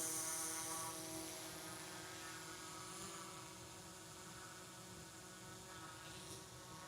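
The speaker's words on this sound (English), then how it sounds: "the drone should be coming in view" A camera drone flies overhead during an outdoor flight, its steady multi-tone propeller whine holding constant and fairly loud across the whole stretch with no talking.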